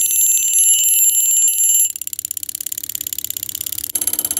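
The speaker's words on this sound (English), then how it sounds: "So this is what it looks like when the alarm is going off" A Westclox alarm clock's bell rings loud and close in a rapid metallic clatter, then shifts to a slower, looser ticking rattle as the spring winds down, with a brief louder burst at the end.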